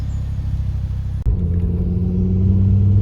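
Ford Focus Mk2 ST with a Volvo B5254T3 five-cylinder turbo engine pulling in low gears under load, a deep steady rumbling drone that shifts after a brief click and then swells louder.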